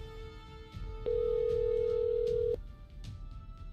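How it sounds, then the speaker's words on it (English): A steady electronic tone from a phone being dialed in a video game, held for about a second and a half at moderate loudness over faint background ambience, with no talk. "Oh my god, I gotta call Christina."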